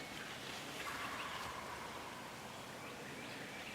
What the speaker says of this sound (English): They just double gobbled a second ago.